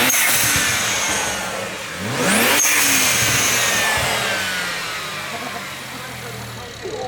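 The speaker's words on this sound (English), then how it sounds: "you can only really hear the blow off valve" A BMW N54 engine revs up nearby and settles, with a sharp hissing whoosh as the blow-off valve vents air, followed by a fading idle.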